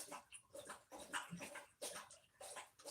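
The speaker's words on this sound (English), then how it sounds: "my puppy dog's getting a big old drink of water there" A puppy-sized big dog recovering from a hurt back laps at water up close, with a run of quick wet slurps broken by short pauses, loud and without voices.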